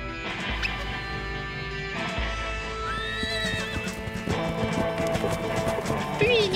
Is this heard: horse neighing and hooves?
yes